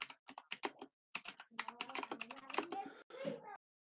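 Clicky bursts of computer keyboard typing during a PC gaming session, close and fairly loud, coming in rapid irregular runs with short pauses in between, and a voice mixed in toward the end.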